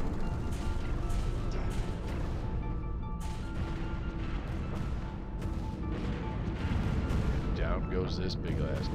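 Weapons fire booms and crashes in a Stellaris space battle, dense and continuous with rumbling blasts and sharp impacts, while a voice talks over it.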